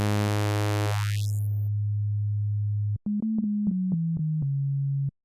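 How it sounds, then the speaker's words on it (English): A rich synthesizer tone from the VPS Avenger 2 VA oscillator thins out until only a pure, steady sine hum remains, followed by a series of short sine beeps stepping slightly down in pitch. "that's going to leave us with only the fundamental, which will be a sine wave"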